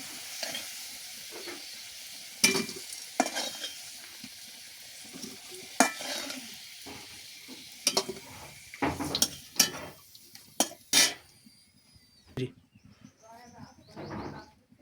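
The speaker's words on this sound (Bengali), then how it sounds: "আলুগুলো লাল লাল মতো ভেজে নিয়েছি এখন আমি এটাকে উঠিয়ে নেব" Potatoes fried until reddish are lifted out of hot oil in a pan, with a soft sizzle under sharp metallic clinks and scrapes of a spatula against the pan, plus faint background sounds.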